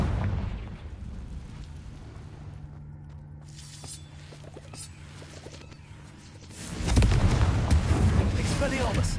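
In the Hogwarts Legacy video game, a Confringo blasting spell detonates after a quieter stretch of game ambience, a sudden loud, rumbling explosion that swells near the end and keeps roaring.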